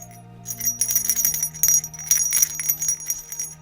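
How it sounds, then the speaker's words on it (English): A small bell jingles brightly in repeated shakes, ringing close against a sustained low musical tone underneath. "I shook the bell"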